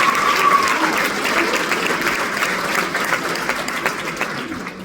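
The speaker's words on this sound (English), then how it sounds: "a round of applause for Bronson Rogers" A crowd at a high school bonfire pep rally applauds for Bronson Rogers, sustained, loud clapping that slowly tapers off, with a brief whistle at the start.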